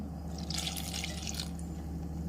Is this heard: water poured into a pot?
yes